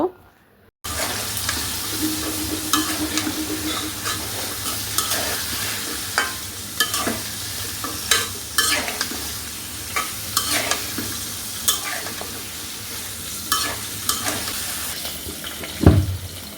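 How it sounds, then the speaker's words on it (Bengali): Stalks and potatoes stirred and fried in a pan in a village kitchen, a steady sizzle broken by repeated spoon scrapes and clatters, with a brief running-tap sound early on and a louder knock near the end. "এখন যে সবজিটা আমি ধুয়ে রেখেছিলাম ডাটা আর আলু সেটা হচ্ছে এটার মধ্যে দিয়ে দিব দিয়ে কিছুক্ষণ ভালোভাবে নেড়ে চেড়ে কষিয়ে নেব"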